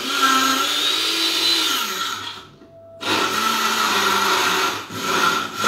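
A blender whirs loudly while mixing a keto drink, running steadily, then cutting out briefly for about a second before starting again at full power, close and alone without speech.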